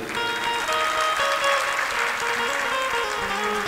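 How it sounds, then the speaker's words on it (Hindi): Audience at a spiritual discourse on deities and Shiva worship clapping together in a sustained, fairly close round of applause, steady and even throughout with no speech over it. "ताली कम बजी अभी।"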